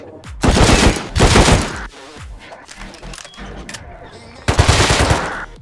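Loud, close automatic gunfire from the video game Rust, three distinct rattling bursts separated by quieter gaps of ambient game noise.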